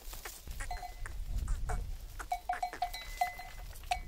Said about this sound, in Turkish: Aha keçiler koşuyor.